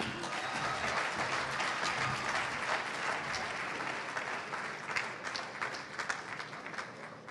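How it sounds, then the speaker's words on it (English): A large audience claps steadily and continuously, a dense wash of applause that stays even throughout, with faint voices mixed in. "Please give it up for Azhar Usman."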